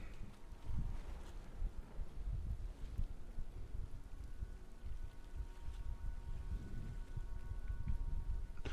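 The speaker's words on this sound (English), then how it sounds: "Oh, it's raining." Faint, steady rain falls in the video game Warframe, a soft continuous patter mixed with low wind rumble and no voices.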